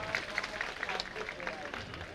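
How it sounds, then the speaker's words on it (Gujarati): Audience applause welcoming and honouring guests at a school event in Roda, a dense, steady patter of many hands clapping at once for a couple of seconds, with voices mixed into the crowd noise. "જોરદાર તાળી આપણે એમના માટે"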